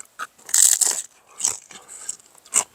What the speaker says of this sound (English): I don't want to be crunching in your ear